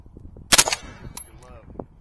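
A single sharp AR rifle shot cracks out in open desert near Las Vegas, a short loud burst followed by a faint ringing metallic ping from a steel target, with light background noise.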